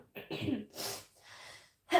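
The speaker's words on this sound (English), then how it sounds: "I only get those coughs when I start shuffling." A few harsh, breathy coughs close to the mic, separated by short pauses.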